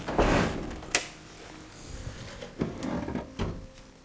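Old wooden drawers with missing bottoms being pulled open in an abandoned manor in Portugal, giving faint scraping slides and a few sharp knocks and rattles spread over several seconds.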